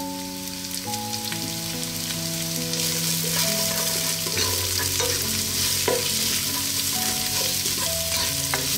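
Onions sautéing in a pan for a Filipino pochero chicken stew, a constant close sizzle with stirring, with a steady musical tone running underneath and no speech.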